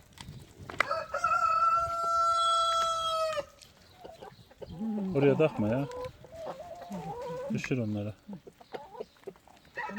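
Chickens and roosters cluck close by as they are fed green onion salad, with one long harmonic call near the start, while several people talk over and between the bird sounds.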